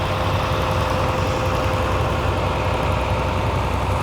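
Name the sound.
John Deere diesel tractor engine idling in a parade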